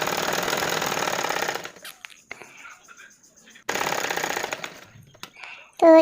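A sewing machine runs straight stitches along a small strip of fabric for a baby party dress, in two steady whirring bursts split by a quiet pause, loud and close.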